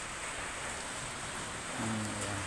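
Steady rain around the Kamay ni Hesus shrine in Lucban, Quezon, a constant wash of falling water with a low hum entering near the end.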